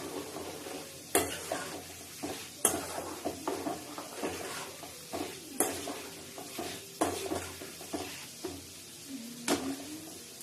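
Garlic and roasted chana dal fry in oil in a pan. A soft sizzle runs beneath repeated scraping stirs and sharp clinks of a utensil against the pan, spaced every second or two, close up.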